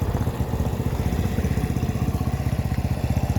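A modified motorcycle engine runs close by, a loud, steady, throbbing idle with rapid even pulses and no voices.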